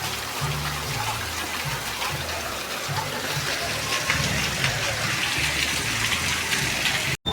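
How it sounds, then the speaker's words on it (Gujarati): Heavy rain falls while water gushes and flows along a village street, a steady close splashing rush with a low churning layer and no clear voices. "મિત્રો અત્યારે ફૂલ વરસાદ આવી"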